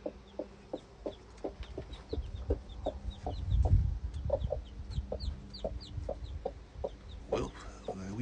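Chickens cluck in short repeated bursts with high peeping newly hatched chicks scattered throughout, close by, with some rustling and handling noises in the middle.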